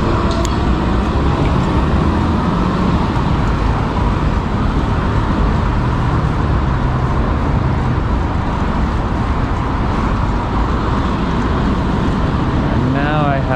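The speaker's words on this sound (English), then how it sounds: "Welcome to a terrible, terrible intersection with everyone trying to get on the highway" Constant loud roar of road traffic at a busy San Francisco intersection by a highway on-ramp, close and unbroken, heard from a bicycle with wind noise mixed in.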